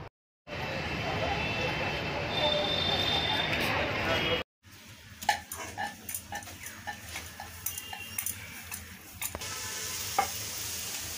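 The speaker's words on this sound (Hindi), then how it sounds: "बस लास्ट पूरी फ्राई हो रहा है।" Puris fry in hot oil in a home kitchen, first as a loud, continuous close sizzle, then after a brief break as quieter sizzling mixed with sharp utensil clinks and scraping.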